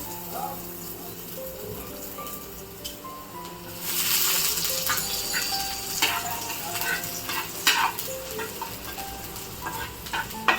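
Finely chopped garlic hits hot oil in a pan and breaks into a loud, steady sizzle with occasional stirring clicks, following a quieter stretch with faint talk.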